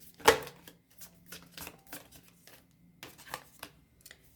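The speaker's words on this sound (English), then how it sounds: "Let's shuffle again." Tarot cards being shuffled in quick bursts of riffling and sliding, with a sharper snap near the start and softer flurries after, close and fairly quiet.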